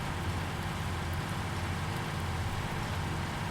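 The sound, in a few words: rain falling in Farming Simulator 19 video game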